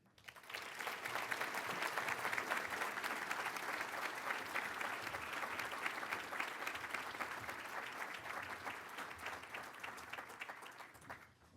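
Sustained audience applause fills a prayer breakfast hall as Dr. Nancy Fishman is welcomed as featured speaker, steady dense clapping for about ten seconds before tapering off near the end.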